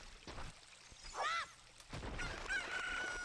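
Chicken clucking and a crowing call from the video game Ocarina of Time, a short rising cluck burst followed by a thinner drawn-out crow, over a steady game background.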